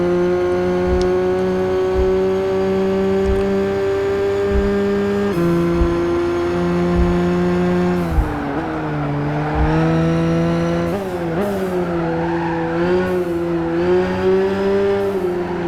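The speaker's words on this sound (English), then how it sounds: "Man, the tunnel noise just goes crazy with these cars." Race cars in Gran Turismo 5 roar through a tunnel, engines droning loudly and continuously with repeated gear-shift drops, rising revs and echoing reverberation, close and dominant with no talk.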